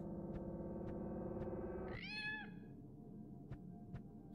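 Cats in a video game let out a meow, a drawn-out rising cry over a droning electronic tone that stops abruptly. Faint ticks and quiet room noise follow.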